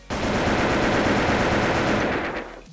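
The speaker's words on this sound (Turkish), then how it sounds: "Şimdi ilkin şöyle bir body tarayacağım ben seni AK-47 ile" An AK-47 in a video game fires one sustained, loud automatic burst lasting over two seconds, rapid shots blurring into a continuous roar before cutting off.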